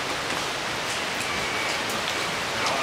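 Steady rain falls and patters on surfaces, a dense even hiss with scattered individual drops ticking through it, close and unbroken.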